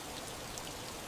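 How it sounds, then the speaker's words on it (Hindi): Heavy rain falls in a steady, dense hiss of countless drops, continuous and even throughout with no voices. "बारिश कितनी ज्यादा है"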